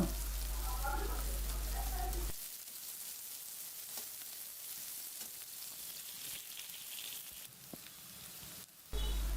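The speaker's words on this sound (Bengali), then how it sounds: "পেঁয়াজগুলো নাড়াচাড়া করে কিছুক্ষণ ভেজে নেব" Chopped onions fry in hot oil, a soft crackling sizzle that drops quieter after an opening stretch of louder background noise, with occasional clicks of stirring and no talk.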